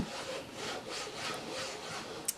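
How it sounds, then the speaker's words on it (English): A large rubber stamp is rubbed back and forth across a Memento ink pad, giving soft, repeated scuffing strokes at close range, faint and steady, ending with a small knock. "I'm going to ink up the stamp, and I just rubbed it on there"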